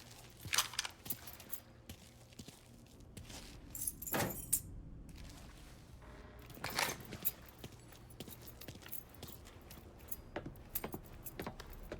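Keys jangle in Mafia 3, a few metallic clinks and shakes spread across the scene with sharp transients and brief rustles, fairly close and clear, with no talk over them.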